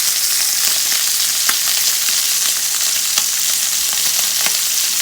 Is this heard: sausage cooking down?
yes